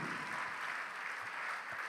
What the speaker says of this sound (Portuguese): vamos aplaudir mais ao Senhor Jesus